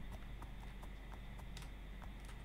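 Donkey hooves clip-clop in the Minecraft video game, a run of light, evenly spaced hoofbeats over a steady background hum, moderately close and with no talk.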